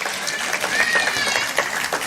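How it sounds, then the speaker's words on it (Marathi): Applause at a motivational speech event, with the mothers in the audience clapping first: a short burst of scattered clapping at moderate loudness, heard alongside a murmur of voices. "त्यामुळे आयाने पहिल्यांदा टाळ्या वाजवायला काय हरकत नाही"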